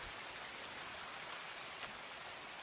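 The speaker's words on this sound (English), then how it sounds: "I was kind of hoping the heavy rain here would subside." Heavy rain in the video game Escape from Tarkov, a faint, steady wash of falling water with one brief sharp tick partway through and no voices.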